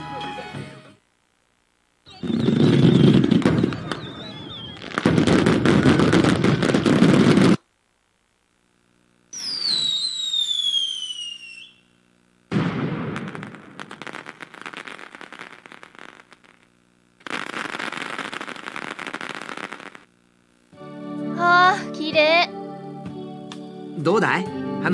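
Fireworks in the video game SWEAT & TEARS 2: loud bursts of crackling noise come one after another with short silences between them, and thin whistling tones sweep through a few of the launches.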